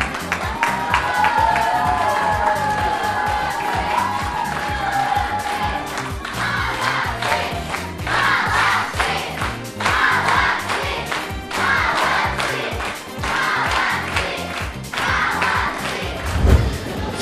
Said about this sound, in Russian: Господа, ваши аплодисменты!